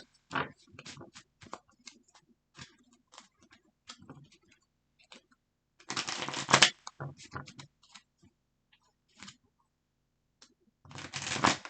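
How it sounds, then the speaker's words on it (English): Tarot cards are shuffled by hand in close, quiet bursts of riffling and soft flicks. Two longer, louder runs of shuffling stand out among scattered small taps and pauses. "Shuffle 3 times."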